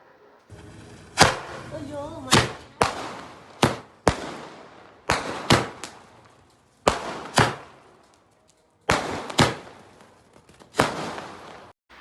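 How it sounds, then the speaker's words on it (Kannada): Firecrackers are set off at night, around ten thirty, as a string of about a dozen sharp, loud bangs in uneven bursts. Each crack has a short echoing tail, with brief crackling between the blasts. "10:30 ಬಂದು ಪಟಾಕಿ ಎಸ್ಬಿಟ್ಟು ಕ್ವಾಟ್ಲೆ ಕೊಡ್ತಾವ್ರೆ"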